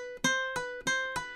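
Ukulele pull-offs, the fretting finger plucking the string as it comes off, four distinct plucked notes in an even rhythm, close and clear with ringing harmonics.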